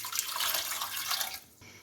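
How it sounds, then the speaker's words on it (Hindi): Water poured into a pot holding raw chicken breast pieces and ground red chili, a steady splashing gush for about a second and a half that stops abruptly. "गिलास के करीब इसमें पानी डाल दें"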